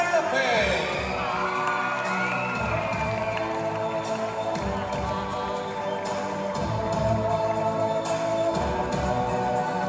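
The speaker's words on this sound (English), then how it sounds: "let us give a round of applause for Miss Sophie Eroa and Miss Camille Buenafe" An audience cheers, whoops and shouts for child dancers at a kids' dance show, a loud sustained crowd roar with excited children's voices running for the whole stretch.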